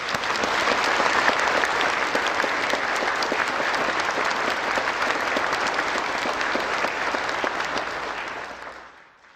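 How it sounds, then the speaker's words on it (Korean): A large audience at a national prayer breakfast gives sustained, dense applause, loud and even throughout before fading out at the end. "우리 다시 한번 뜨거운 박수를 드리겠습니다."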